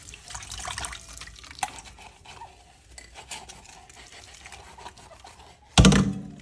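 Water runs from a tap over a broken wine glass as it is rinsed, a steady trickling wash with small scrapes and clinks, ending in a sudden loud surge of water.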